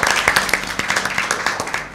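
Applause for Team B at a Lent season Bible quiz, a short burst of lively clapping from a small audience, close and rhythmic, fading slightly at the end.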